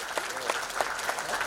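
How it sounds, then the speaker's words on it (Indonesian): Applause from an audience at a public event on new road construction in Badung, Bali, a steady wash of clapping with a few sharper claps standing out, fairly close and continuous. "Tepuk tangan dulu."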